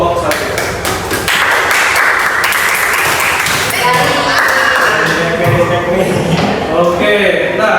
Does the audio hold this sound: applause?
yes